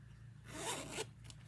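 A zipper on a sewn fabric pouch rasps open and closed in one quick pass, a close, soft scratchy stroke over a steady low hum, with no talking.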